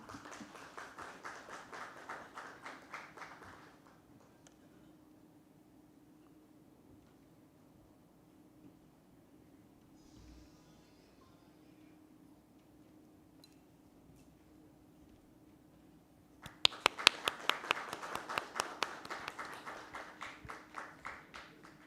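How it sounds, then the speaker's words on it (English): A customer event audience applauds during a memento presentation, with a short spell of clapping at the start, a long quiet lull with faint background sound, then a louder, denser round of applause near the end. "A huge round of applause, please."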